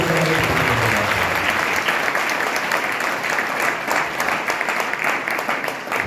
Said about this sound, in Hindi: आत्मा की ताली बजाएं